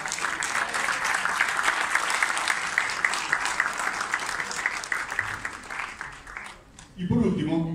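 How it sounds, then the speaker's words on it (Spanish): Audience applause at an on-stage event with speakers and moderators: sustained, dense clapping from a crowd for about six and a half seconds, then fading as a voice begins speaking. "otro aplauso"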